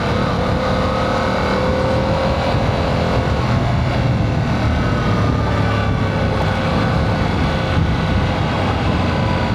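Strong wind roars steadily and loudly throughout at an outdoor car wash during a Yamaha R7 motorcycle wash, a broad continuous rush with no talk.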